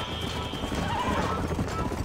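Rapid hoofbeats of a horse galloping in a race in Red Dead Redemption, with a whinny partway through and a voice talking over the pounding rhythm.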